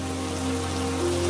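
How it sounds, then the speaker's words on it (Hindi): Heavy rain pours down in an animated Hindi folk tale, a steady, dense hiss of falling water that runs continuously beneath sustained background music tones. "देखते ही देखते तेज बारिश हो जाती है और पूरा राज्य जलधारा से सराबोर हो जाता है"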